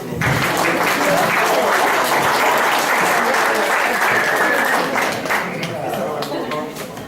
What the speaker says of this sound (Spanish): Por favor, recibamos con un fuerte aplauso.